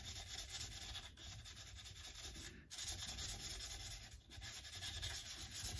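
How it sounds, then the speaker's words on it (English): Rubbing down the edge of a Squier Bullet Mustang guitar fingerboard, a close, quiet, continuous scraping rub in long strokes with a few brief pauses, no voices. "So I'm just rubbing this down the edge."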